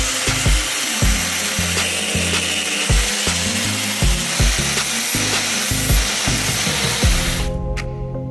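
Steady power-tool cutting through a metal fitting on a Ford valve cover, a loud continuous grinding drone with rhythmic bursts of load, ending abruptly near the close.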